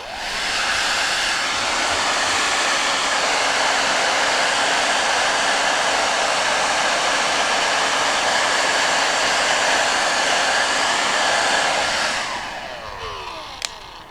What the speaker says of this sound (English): I've plugged in our blow dryer.